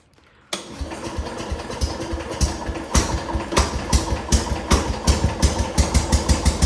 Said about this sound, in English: take the choke off, and it should fire right up